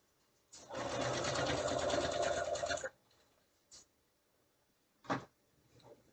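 Sewing machine running steadily for about two seconds, stitching a flange around a gnome quilt block, followed by a few short, faint handling knocks and thuds.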